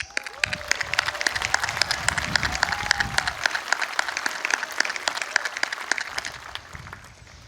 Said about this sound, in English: I, for one, think that deserves a round of applause.